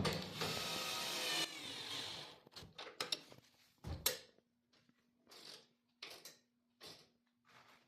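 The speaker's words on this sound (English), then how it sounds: "And then using a 10mm and a number 3 Phillips bit, tighten it up." Ladder hardware on a marine beach ladder being tightened with a 10mm wrench and a number 3 Phillips bit: a steady scraping drone, then scattered short metallic clicks and ratcheting taps, fairly quiet and close.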